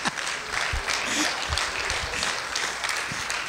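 A church congregation bursts into steady, loud applause, many hands clapping together in a dense, continuous crowd wash.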